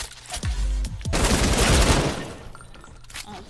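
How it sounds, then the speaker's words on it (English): A purple LMG fires in Fortnite: a short opening burst followed by a dense, loud stretch of rapid gunfire lasting about a second and a half, then fading into softer game noise. "When you have a purple LMG."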